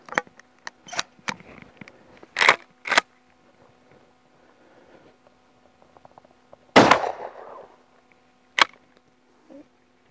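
A Hatsan Escort Aimguard pump-action shotgun fires 8.5 mm buckshot outdoors. About four loud, sharp blasts come at irregular intervals, with smaller clicks and mechanical clatter between them.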